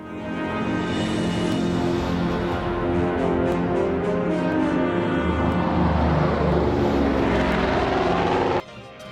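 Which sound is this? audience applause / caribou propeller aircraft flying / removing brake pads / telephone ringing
caribou propeller aircraft flying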